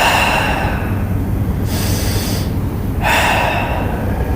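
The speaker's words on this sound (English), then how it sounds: "2 full breaths here." Full, deep breaths drawn during an exercise stretch, two long airy inhale-exhale cycles that sound close and loud, with a steady background hum underneath and no talking.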